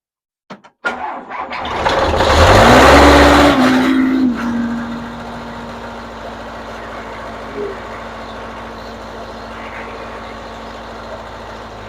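An old backhoe's engine cranks with a few sharp clicks, then roars loudly for a couple of seconds before settling into a steady, rumbling idle that runs to the end.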